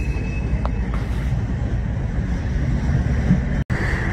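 A southbound train with a passenger car coupled behind the locomotive rumbles past nearby as a steady, broad roar. Brief squeals ring out early on, and a short dropout comes near the end.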